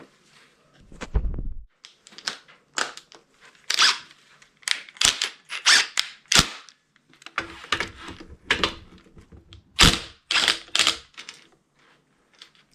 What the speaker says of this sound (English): you're just gonna use a mallet to tap or to drive the spindle down, and it should come right apart.